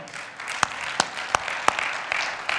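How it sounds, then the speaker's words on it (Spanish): A church congregation applauds in praise during a sermon, a dense sustained crowd clapping with a few sharper individual claps standing out. "¿Puedes darle un aplauso de alabanza al Señor?"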